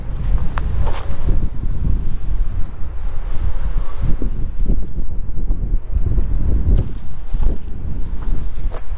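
Strong outdoor wind buffeting the microphone, a loud continuous low rumble with gusty surges throughout and no clear other sounds.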